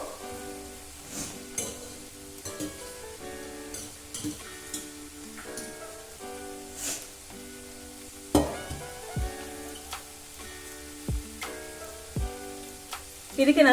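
Cooked pasta is tipped into a pan of sizzling tempering seasoned with pepper powder while cooking white sauce pasta, giving a steady sizzle with a few scraping stir strokes and clinks, all under background music.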